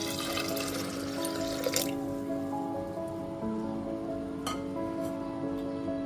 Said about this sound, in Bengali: তারপর দিয়ে দিচ্ছি পরিমাণ মতো জল।